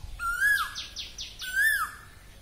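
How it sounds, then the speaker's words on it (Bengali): A bird calls twice in a garden in the morning, each a rising whistle followed by rapid trilled notes, fairly faint and slightly distant, with no talking. "কি দারুণ লাগছে না পাখির ডাকটা।"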